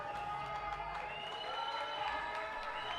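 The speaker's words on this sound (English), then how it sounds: "Getting some cheers from the crowd for Hussein." Crowd at a weightlifting meet cheering for a lifter stepping up for his opening attempt, a steady distant roar of voices and scattered clapping held at an even level.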